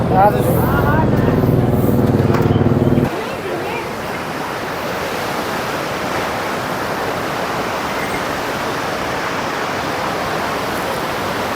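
Water rushing along a mountain stream on the Kedarnath trek, a steady broadband roar that runs close and continuous. A loud burst with a voice opens the first few seconds.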